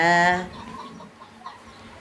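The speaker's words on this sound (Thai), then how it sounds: "เห็นไก่แจ้ไหม ไก่แจ้อยู่ไกลๆนู้นนะครับ" Bantam chickens cluck at a distance on a Thai home property, a short harmonic burst at the start followed by quieter scattered fowl calls over soft background noise.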